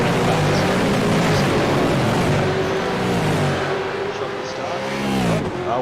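Race cars in a V8 sim racing game spin their rear wheels at a crowded standing start, engines roaring and revving loudly together in a dense, continuous drone while someone talks over them.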